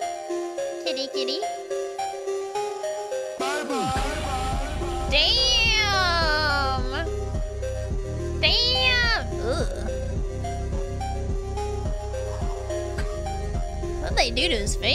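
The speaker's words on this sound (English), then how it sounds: "Whoa, kitty!" A cat meows several times, loud and close, with drawn-out wavering cries over a steady rhythmic thumping beat and talk in the background.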